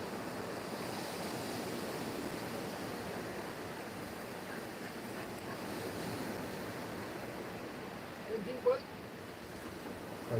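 Waves breaking close in on a beach during a ray fishing session, a steady washing surf roar with wind noise on the microphone, joined near the end by a brief knock.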